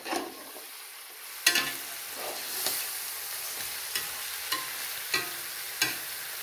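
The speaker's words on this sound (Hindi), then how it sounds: "ये मेटल का चमचा जब इस्तेमाल करते हैं तो थोड़ा आवाज़ आती है" Chicken frying in a pot sizzles steadily while a metal spoon stirs it, giving several sharp scraping clinks spaced about a second apart, close and fairly quiet.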